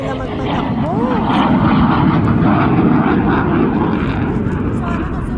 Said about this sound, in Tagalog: papunta na uli yung aeroplano dito na natin